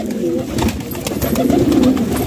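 Fancy pigeons coo softly in a low, rolling murmur, close by and continuous over a short stretch, with faint rustling around them.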